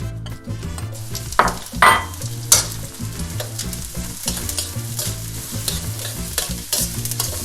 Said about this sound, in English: Fry the onion for about a minute